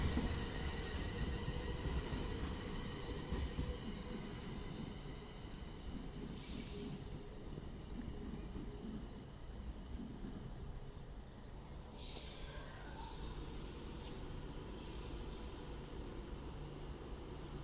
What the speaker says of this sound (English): And 390 127 is getting ready to continue her service to Manchester Piccadilly.